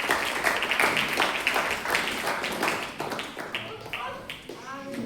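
A church congregation claps together after a worship prayer, making dense, steady applause that fades toward the end as a voice begins speaking over it.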